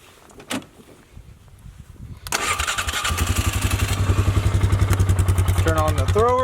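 A seed-spreading vehicle used for frost seeding clover food plots starts after a few quiet clicks, cranking briefly and then settling into a loud, steady, rapidly pulsing idle, with a voice briefly heard.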